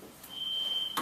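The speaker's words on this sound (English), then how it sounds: "Fire alarm, right?" Fire alarm going off in a lecture hall, a single steady high electronic tone holding for most of a second, heard faintly over room murmur.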